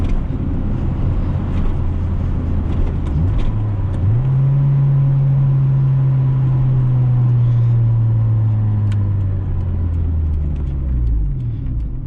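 1997 Acura Integra with a 1.8 liter engine driving, a loud, steady drone whose pitch climbs and holds as the engine revs up, then falls away near the end, heard close from inside the car.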